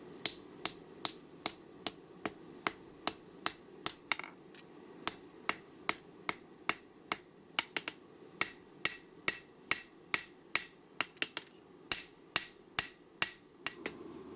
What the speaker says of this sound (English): I clamp the knife in a vise and use the cross peen and drive it down into that finger choil.